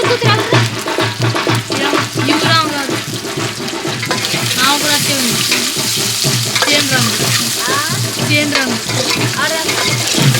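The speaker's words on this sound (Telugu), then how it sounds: "ఉల్లిగడ్డలు అయితే వేస్తున్నాను" Sliced onions sizzle and crackle steadily in a hot pan for an Andhra-style onion curry, with stirring sounds throughout and a voice talking over the cooking.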